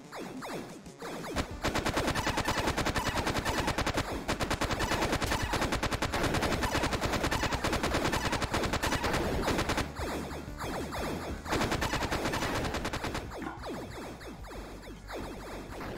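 Rapid automatic gunfire from a weapon in the video game Geometric Multiverse, a dense run of shots that briefly breaks off and then resumes, with no talking.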